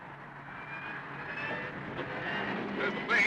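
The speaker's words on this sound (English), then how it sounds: "There's the plane." A propeller airplane drones overhead in a 1938 film scene set in Africa, a steady, moderately faint engine hum that swells slightly toward the end.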